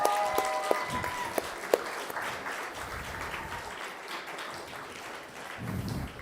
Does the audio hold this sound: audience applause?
yes